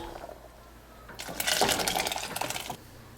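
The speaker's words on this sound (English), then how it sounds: "And now add all the cooked beans to the stir fried gravy." Cooked red kidney beans tipped from a pressure cooker into stir-fried rajma gravy make a wet, splattering slosh and clatter at mid-clip, close and moderately loud, lasting about a second and a half.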